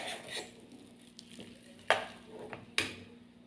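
A spoon stirs and mixes a sandwich filling in a pot, with soft scraping and two sharp metallic clinks against the side, close by and with no talking.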